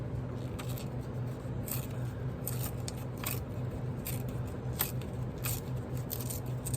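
A printed scrap of digital paper is torn off by hand: a run of quick, dry rips and crackles, close and fairly soft, over a steady low background hum.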